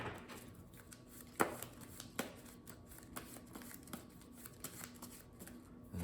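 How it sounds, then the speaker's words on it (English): A deck of playing cards for a solo Marvel Champions card game being shuffled at a tabletop, soft riffling and snaps close by over quiet room tone, with no talking. "let's shuffle up the player deck here"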